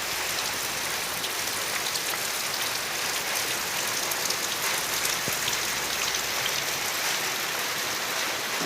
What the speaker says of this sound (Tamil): நல்லா மழை பெய்துட்டுருக்கு.